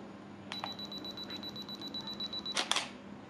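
A camera on self-timer emits a thin continuous beep for about two seconds, then its shutter fires a single shot, a close, quiet double click in a calm room.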